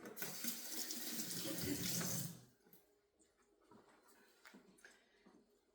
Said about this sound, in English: rinse my hands here